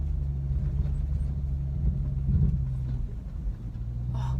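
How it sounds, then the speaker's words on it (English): Vehicle rolling slowly across a cold cow pasture while searching for calves, its steady low engine rumble continuous and fairly close throughout, with no talk. "Driving through the pasture, trying to find the calves."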